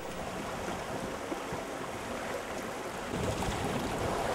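Fast river water rushes past a boat near Pagsanjan, a constant roaring wash that swells a little louder in its final second, with no one speaking.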